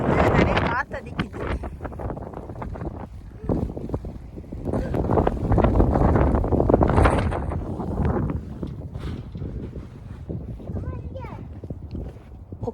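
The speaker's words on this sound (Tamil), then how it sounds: "நிறைய காற்று அடிக்குது." Strong wind roars and buffets the microphone during a snowstorm in Edmonton, a loud continuous rush with gusts that swell and ease, while muffled voices come and go underneath.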